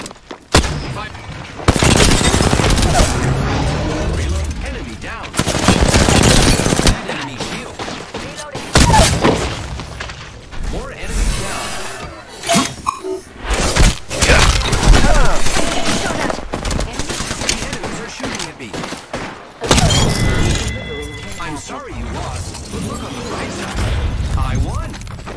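Combat in the video game Apex Legends: frag grenade blasts and rapid automatic gunfire come in loud, dense bursts, with heavy booms and crackling shots that run nearly continuously and leave only short gaps.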